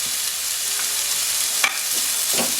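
Chinese potato stir fry with coconut, tossed in a hot pan: a low, even sizzle runs throughout while a few brief scrapes and clinks of the spoon stand out near the end. No one talks.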